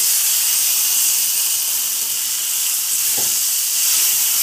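Kohlrabi fries in a pan with salt, sugar and turmeric, giving a loud, continuous hiss and sizzle that holds steady without any talking.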